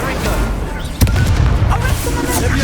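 An Incendio fire spell cast in Hogwarts Legacy erupts as a sudden loud burst about one second in, then rumbles on over a dense bed of game sound.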